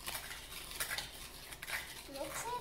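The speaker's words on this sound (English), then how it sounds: "Then we mix it. Mix it more." A spoon stirs eggless mug cake batter in a cup, making quick repeated clinks and scrapes against the sides in an uneven rhythm, close and fairly quiet, with faint background voices.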